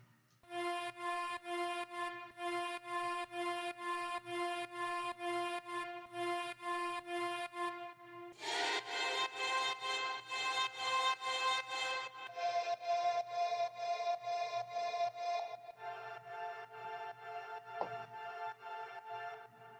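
Layered ambient textures sit within a music track, shifting in sections: a steady tonal bed, then a denser noisy wash, then sustained tones with a faint drone, continuous and even throughout with no talk.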